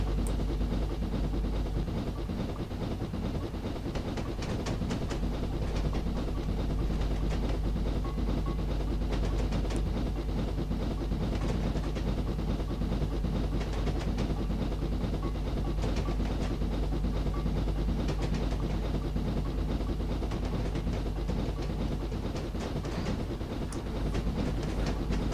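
A steam locomotive runs in the Train Simulator game, a dense, continuous rumble of engine and rolling wheels with faint rhythmic clatter, steady and loud throughout with no pauses.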